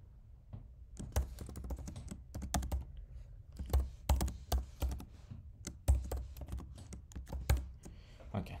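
Close, crisp tapping on a computer keyboard comes in quick irregular bursts and short pauses, the keys clicking with soft thunks over a low background.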